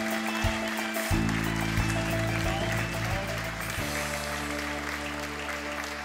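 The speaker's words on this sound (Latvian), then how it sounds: "Jūs bijāt lieliski, jūs esat pelnījuši lielas ovācijas." Audience applause at the close of a concert in a Latvian culture house, a sustained wash of clapping with a held organ-like chord underneath that shifts partway through.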